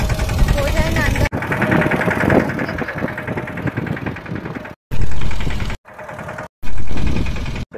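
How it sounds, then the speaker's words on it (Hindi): A tractor runs over a peanut field, its mid-pitched engine chugging loudly and steadily with a knocking idle, then cutting in and out in abrupt bursts, while someone talks over it. "ये अंदर चला जाए उसके लिए ऊपर ट्रैक्टर चला रहे हैं।"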